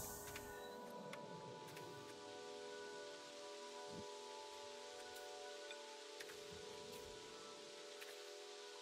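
Steady rain falls in the video game Seasons after Fall, a soft, continuous hiss with a few faint drops and knocks, and no talking.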